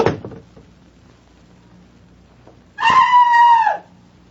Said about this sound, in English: Then scream as loudly as you can.